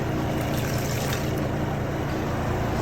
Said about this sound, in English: This is still draining from the washer.